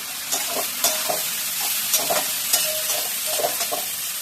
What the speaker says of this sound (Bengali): আলুগুলো ভাজা হয়ে গেছে, এবার আলুর ভিতরে আমি বেগুনটাও ছেড়ে দিলাম, দিয়ে একটু নেড়ে ছেড়ে দিই